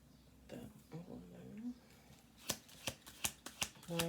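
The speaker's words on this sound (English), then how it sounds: "We'll do 2 more shuffle throughs after this one, okay?" A deck of cards is shuffled in a quiet room: soft handling and a few quiet voices at first, then a quick run of sharp, riffling snaps close to the mic.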